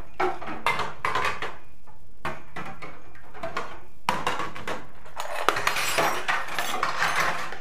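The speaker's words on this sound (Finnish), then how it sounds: "Mä tiskaan tuossa kohta astiat." Dishes and cutlery clatter as they are sorted before washing up: coffee cups, drinking glasses and plastic mugs. Close, busy clinks and knocks come in irregular bursts with short gaps, growing denser toward the end, with no talk.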